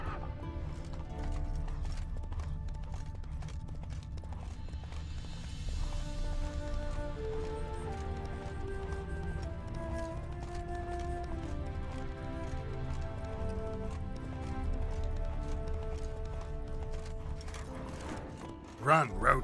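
Horse hooves gallop in The Witcher 3 game, a steady rhythmic clip-clop close up, mixed with game music and a voice talking over it.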